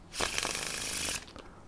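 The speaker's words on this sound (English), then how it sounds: "one Faro Shuffle every 6 seconds" A deck of playing cards is given a Faro shuffle, a quick dense riffling burst of about a second with a brief crisp settling sound right after, close and alone.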